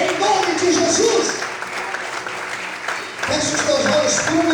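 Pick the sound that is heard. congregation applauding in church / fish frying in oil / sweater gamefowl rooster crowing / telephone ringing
congregation applauding in church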